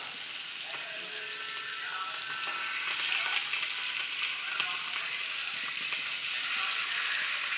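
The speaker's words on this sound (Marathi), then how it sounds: "अशी फ्राय करून घ्यायची" Fish fries in a pan on a low gas flame, giving a steady, bright sizzle close by with faint clinks of stirring or turning.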